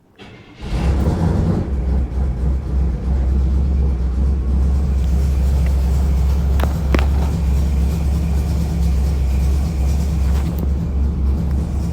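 A truck engine starts up and then idles with a loud, steady low rumble for several seconds, running close by without a break.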